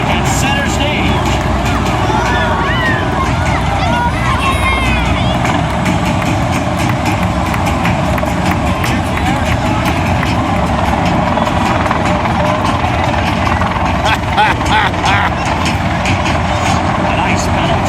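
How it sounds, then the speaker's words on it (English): A CH-53 Super Stallion heavy helicopter performs at an air show demonstration, its engines and rotors a loud, unbroken roar for the whole stretch, with a voice talking over it. "Let's watch this beautiful, big CH-53 perform its ballet at center stage."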